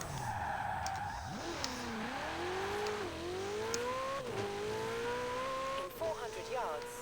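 A Ferrari engine in Forza Horizon 4 revs and climbs through gears with repeated upshifts and a brief tire squeal, steady and close, with quiet talk underneath.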